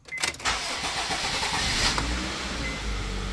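A Honda EM2 car engine with an upgraded stage 1 clutch cranks and catches, then runs with a steady, close rising rev and a strong low rumble.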